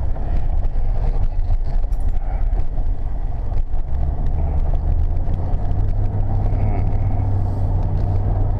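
A 1996 Lincoln Town Car limousine drives and accelerates smoothly, heard from inside as a steady, close, low engine and road rumble throughout, with no voices.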